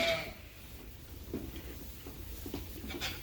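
Sheep bleat intermittently in a barn on a rainy day at a sheep farm, with several short calls over a steady background of rain patter.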